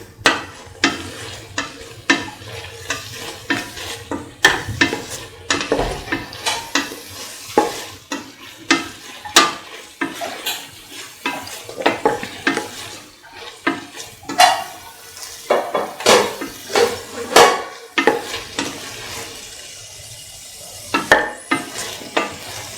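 Long yard beans being stir-fried in a pan, with a steady sizzle under constant scraping and clattering of a spatula against the metal, loud, close and busy throughout.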